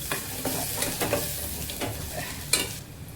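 Raw turmeric roasting in ghee in a pan over a low flame, crackling and sizzling steadily while a spoon stirs and scrapes now and then, close up and with no voices.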